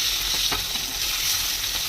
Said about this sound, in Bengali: এরকম করে সবটা ভেজে নেবো